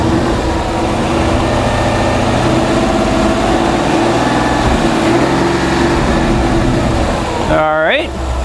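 A car engine is revved up during a battery and charging-system test, a steady loud mechanical drone lasting several seconds with a brief rising whine near the end.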